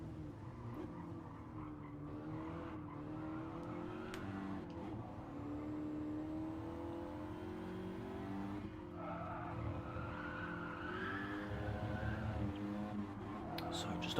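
A Ford Focus Cup race car lapping Tsukuba Circuit, heard onboard: a steady engine drone rises and falls through gear changes, with tire squeal and skidding and a commentator talking over it.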